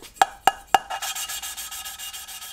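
Valves on a Hayabusa turbo engine are lapped by hand. Three sharp clacks open a run of quick rhythmic rubbing and grinding strokes, close and clear, with no voices.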